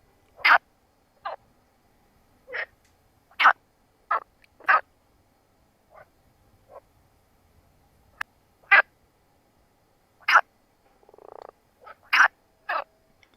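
Frogs croaking in the open, a series of short, loud, separate calls spaced irregularly over quiet background, each a brief rasping burst, with one softer, longer rattling call near the end.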